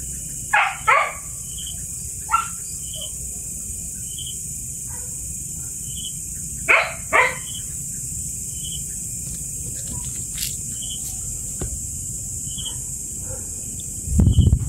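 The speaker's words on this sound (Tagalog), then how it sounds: "Sobrang ingay ng aso dito sa labas." Several dogs bark outdoors at night at a middle distance, in short bursts of two or three barks separated by long pauses, over a steady background of crickets and insects with a faint rumble at the end.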